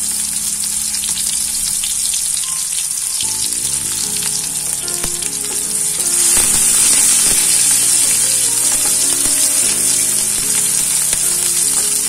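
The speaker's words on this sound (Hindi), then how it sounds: "एबे कटा हेथवा प्याज को मु पकाई देछि, कटा लंका को भी सेथरे छाड़ी देबे।" Chopped onion and green chilli fry in a pan, a constant close sizzle that swells louder partway through as more goes into the hot oil, with faint utensil clinks and no voices.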